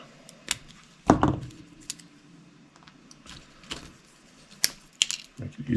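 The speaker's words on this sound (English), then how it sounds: "Snip my zip tie." A zip tie is snipped while the wheels come off a Losi Mini LMT RC monster truck, with one sharp close cutter snap among scattered light clicks and rattles of tools and parts.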